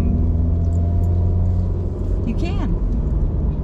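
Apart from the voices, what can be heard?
car driving along the Lake Superior coastline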